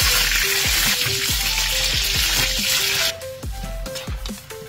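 Boiled eggs sizzle and crackle in very hot oil in a wok, a loud steady frying hiss with sharp pops and spatters, easing slightly partway through while metallic clinks continue.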